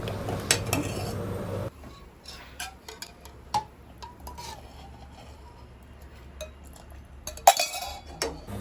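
A spoon clinks and scrapes around a metal pot of milk-powder semolina porridge on low flame in irregular strokes, sharp taps standing out over a low steady hum, close by.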